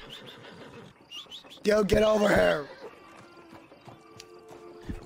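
A horse in the video game Red Dead Redemption 2 lets out a loud, brief whinny partway through, set against light ambient bird chirps while someone talks over it.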